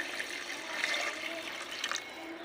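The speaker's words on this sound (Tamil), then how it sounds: "அந்த சேமியாவுக்கு தகுந்த படி தண்ணி சேர்த்துக்கலாம்" Water pours steadily into a cooking pot as it is added for egg vermicelli, a continuous close splashing rush with slight surges, no voices.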